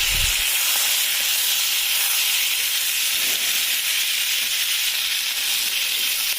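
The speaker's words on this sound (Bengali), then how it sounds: "আগে মাছটা রান্না করে নিই" Fish frying in a pan gives off a loud, unbroken sizzling hiss that stays close and constant throughout, with no voices.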